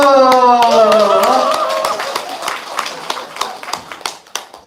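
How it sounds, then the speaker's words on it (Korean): An audience at a senior school gathering breaks into scattered hand claps after a brief sustained voice, the claps uneven and fading, with faint chatter underneath. "박수!"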